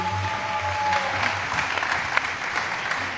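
Studio audience applauding on the Turkish game show Çarkıfelek, a dense wash of many hands clapping at steady volume, with some music or tonal sound underneath at the start.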